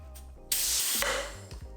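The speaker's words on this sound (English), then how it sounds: "And this is the bath bomb press machine." A bath bomb press machine clamps down on a black bath bomb in its mold, giving a loud, close burst of hissing air that holds for about half a second and then trails off.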